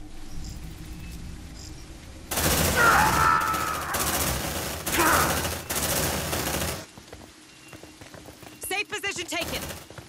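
Sustained burst of gunfire in the Aliens: Dark Descent video game, loud and continuous for several seconds with dense overlapping shots, then tapering into quieter scattered effects and a brief later flurry.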